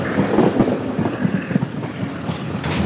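Tazara Freedom Railway train running through Zambia, a steady clickety-clack of wheels over rail joints with a continuous rumbling roar, close and loud throughout.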